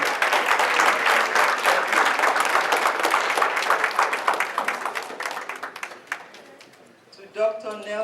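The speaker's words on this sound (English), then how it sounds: "Please give him a big round of applause." Sustained, loud applause from a gala audience honoring Dr. Nelson Aluya, a dense wash of many hands clapping that slowly thins and fades out, with brief talk emerging at the end.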